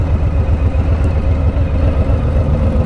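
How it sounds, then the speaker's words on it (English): A motorcycle engine runs steadily at high speed, its loud exhaust drone and pulsing rumble continuous and close, mixed with a wind rush. "So even with the loud exhaust, even with the wind, even at triple digits there"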